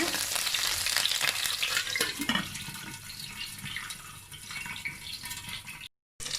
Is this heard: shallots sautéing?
yes